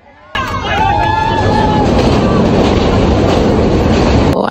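A moving train carrying a crowd of dancing university tour students, with a loud continuous rumble and rattle from about half a second on and a chatter of voices over it.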